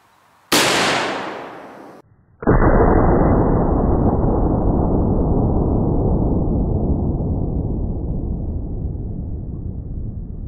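A rifle shot rings out loud and close, followed by a second sharp impact as the bullet strikes a barrel and sets off a long, roaring blast that slowly fades; no talking is heard.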